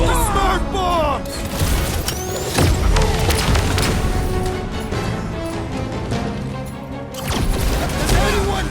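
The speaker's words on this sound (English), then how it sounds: "Bust out the smart bombs!" Smart bombs exploding in Marvel's Guardians of the Galaxy, with booming blasts and crashing impacts in bursts over a busy combat soundscape, voices shouting in between.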